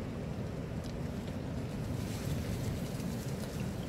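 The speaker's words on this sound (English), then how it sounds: "It's blowing an absolute hoolie out there. Got a good chop on that water and a good blow." Strong gusting wind with choppy water slapping on a lake during a carp fishing trip, a continuous rushing roar and low buffeting of the microphone, no voices.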